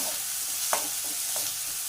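Sliced shallots being sautéed in an oily pan for a beetroot stir-fry crackle steadily up close, broken by a few sharp spoon scrapes and knocks against the pan, with no speech.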